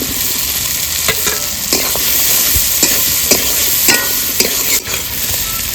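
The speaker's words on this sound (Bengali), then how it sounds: "এবার ভেজে রেখে আলুগুলো দিয়ে দেবো" Fried potatoes tossed into spice paste in a pan for a fish-roe posto and potato kofta curry, with a steady loud sizzle broken by repeated scraping stirs, close and alone.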